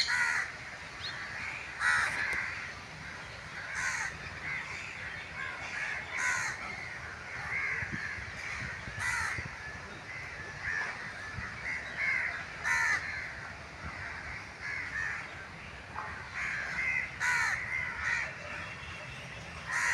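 Crows caw repeatedly in a seaside park, harsh calls coming in irregular bursts of several, fairly close, over steady outdoor background noise; no one talks.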